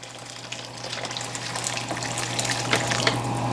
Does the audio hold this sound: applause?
no